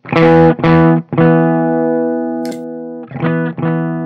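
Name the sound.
clean electric guitar with volume boost pedal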